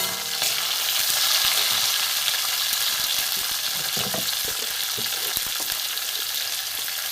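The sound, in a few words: capsicum and tomato frying in pan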